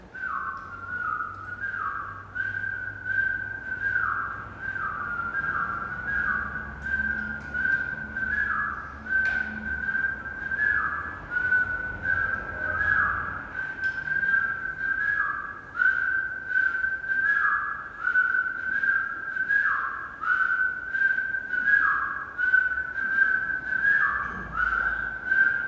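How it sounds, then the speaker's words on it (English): A person whistles a steady repeating melodic rhythm during a live kundalini yoga session for prosperity, clear and continuous, with short pitch dips between phrases and a faint low hum underneath; no one speaks. "You're gonna whistle that rhythm."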